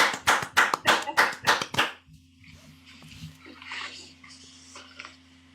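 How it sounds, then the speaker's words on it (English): A small round of claps for a cancer survivor four years clear: about eight sharp, close hand claps in quick rhythm for two seconds, then they stop and quiet voices and a low hum remain. "just round of applause for that."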